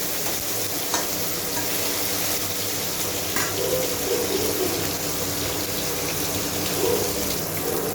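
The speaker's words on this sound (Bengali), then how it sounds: "এভাবে আমি মাছটাকে লাল করে ভেজে তুলে নেব।" Pieces of katla fish fry in hot oil in a pan for kalia, giving a steady close sizzle with faint stirring and occasional soft clinks, and no talk.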